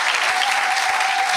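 A church congregation bursts into loud, dense applause and cheering in praise of the Lord, a steady wash of many clapping hands filling the space with a few voices mixed in.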